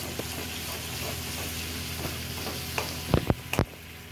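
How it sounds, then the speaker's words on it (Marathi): Green masala paste with onion, coconut and whole spices sautés in oil for mutton bhaji, a fairly quiet continuous sizzle joined toward the end by a few close spoon scrapes against the pan. "आता आपला मसाला छान परतत आला आहे."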